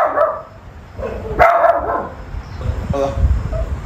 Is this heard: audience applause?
no